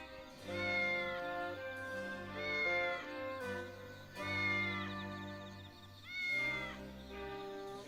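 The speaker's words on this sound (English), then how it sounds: "I heard a cat's meow." A cat meows in the video game Triangle Strategy: four drawn-out, wavering calls at a steady pace, clear and close over a soft sustained musical background.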